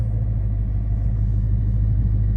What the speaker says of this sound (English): Let me get a quick cold start for y'all